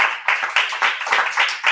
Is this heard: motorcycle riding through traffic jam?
no